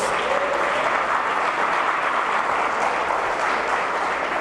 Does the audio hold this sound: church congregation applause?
yes